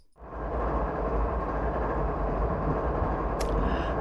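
ES44AC diesel locomotive running in the video game Train Simulator 2020 on a Canadian mountain route, a steady broad rumbling drone that swells in right after the start and stays loud, with a brief high squeal near the end.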